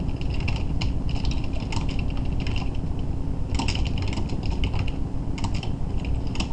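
Fast, steady typing on a computer keyboard, with dense clicking keystrokes in close bursts over a constant low background hum, and no voices.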